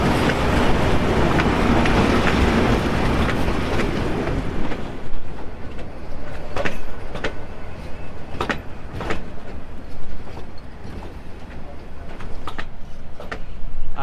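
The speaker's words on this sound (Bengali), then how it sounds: "রাজেন্দ্রপুর স্টেশনে এই যে ট্রেন একটা ঢুকছে" A train pulls into Rajendrapur railway station on the way to Bhawal, with a loud steady rumble that eases, then a rhythmic clickety-clack of wheels over rail joints as the carriages roll past up close.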